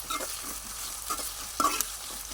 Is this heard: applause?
no